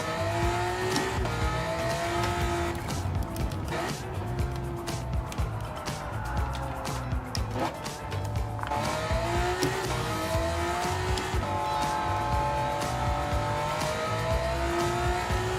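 A Honda NSX races in Gran Turismo 7, its engine revving hard and rising and falling through gear shifts, with brief tire squeal in the corners and a continuous, loud, close engine note throughout.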